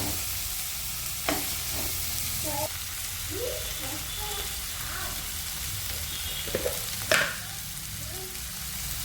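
Turmeric powder fries in a pan for a macaroni dish, giving a low steady sizzle with occasional stirring scrapes and clinks, plus faint background noise but no clear talk.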